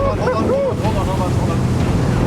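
Ocean waves slap against a moving passenger train's coastline stretch or boat hull with steady roaring wind buffeting the microphone, a loud continuous rush of water and gusts throughout.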